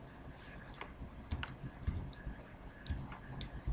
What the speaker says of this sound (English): On the platform, type the stock code into the first box,